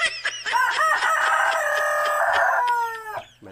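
A Rhode Island rooster crows once, loud and close, in a long drawn-out call that rises and holds before trailing off, with a faint steady hum behind it.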